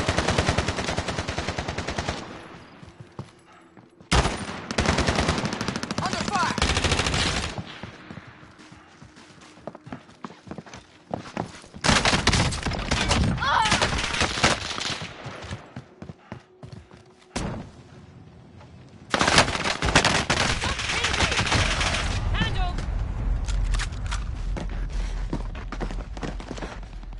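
Gunfire in the video game Warzone Rebirth: loud, dense automatic bursts that stop and start in several long volleys with brief quieter gaps between them.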